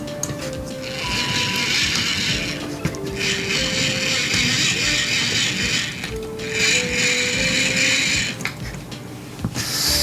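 Wooden ROKR solar system model being cranked by hand, its gears giving a steady close mechanical clicking and ratcheting whir in long bursts with brief pauses between.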